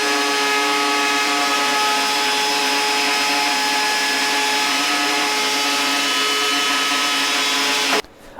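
Router running with dust extraction while working on a workbench, a loud, steady motor whine with a constant tonal hum and airy suction noise, cutting off abruptly near the end.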